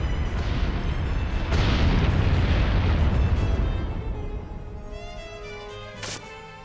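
Heavy rumbling explosions in Disgaea 4: A Promise Revisited boom continuously for several seconds, loud and dense, then fade into a quieter tail with a brief sharp burst near the end.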